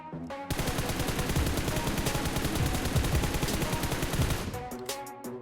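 A rapid automatic-weapon burst while aiming down sights in PUBG Mobile runs as one loud, continuous rattle of shots for about four seconds, then stops, leaving a few scattered clicks.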